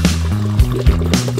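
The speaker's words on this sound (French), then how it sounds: "Alors on va mettre de l'eau." Water poured into a digital electric kettle, a close, sloshing fill with uneven gurgling bursts over a second or so.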